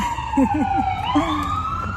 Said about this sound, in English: Can you hear that siren?